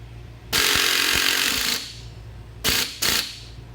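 A power tool tightens a nut on a car strut during a strut and shock job: a loud, steady burst of about a second and a half, then two short sharp bursts, close up with no talk.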